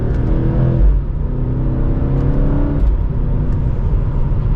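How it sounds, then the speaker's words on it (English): A 2023 BMW M8 Competition pulling hard from second gear, its engine roaring loudly and steadily from inside the cabin, rising in pitch before a brief shift and then climbing again. "And with an acceleration from second gear,"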